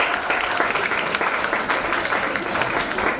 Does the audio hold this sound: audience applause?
yes